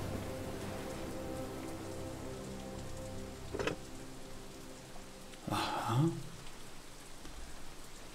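Rain falls steadily and softly throughout, with a low hum in the background and a brief scraping or movement sound midway.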